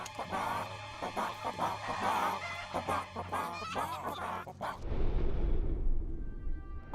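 Chickens in Fable III clucking and squawking in quick bursts for several seconds, close and fairly loud, then giving way to a low rushing rumble.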